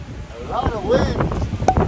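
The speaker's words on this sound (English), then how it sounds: "That is some wind." Strong wind and rain batter the microphone outdoors during a DJI Mavic Air 2 drone hyperlapse flight, producing a close, continuous roaring rumble with a few wavering tonal whistles over it.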